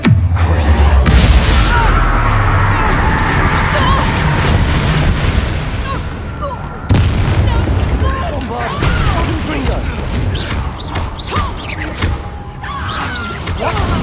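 A Confringo fire spell is cast in Hogwarts Legacy, loud booming blasts and crashing impacts amid busy combat effects, with a voice speaking at times over the din.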